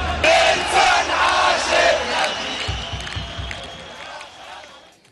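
Stadium crowd of football fans roaring and chanting loudly for several seconds, the broad noise slowly fading toward the end, with a few low thumps partway through.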